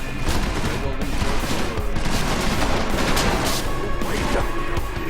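Dense, continuous barrage of booming video game cannon fire and crashing blasts, loud and close, overlapping with no pauses for several seconds.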